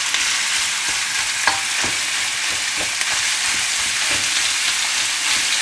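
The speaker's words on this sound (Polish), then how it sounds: "już jest wysoka temperatura, wrzucamy mięso." Minced meat sizzles loudly in a hot pan, a constant crackling hiss with occasional scraping taps from stirring and breaking it up.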